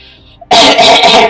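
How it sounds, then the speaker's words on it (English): A single sharp, loud cough bursts out after a brief near-silence and rings on for most of a second. "Coughs."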